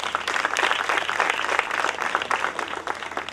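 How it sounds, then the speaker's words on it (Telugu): Steady applause from a church gathering's audience, many hands clapping continuously at close range with no pauses, filling the whole stretch without talk. "కొట్టండి మళ్ళీ ఒకసారి చప్పట్లు"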